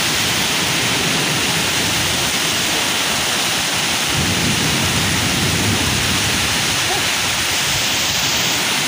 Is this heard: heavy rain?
yes